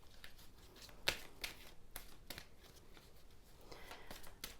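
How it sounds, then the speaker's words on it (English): Tarot cards are shuffled by hand in a quiet room: soft, repeated riffling and flicking with a couple of sharper snaps, close and faint. "Lots of shuffling going on."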